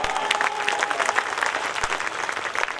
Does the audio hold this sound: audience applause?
yes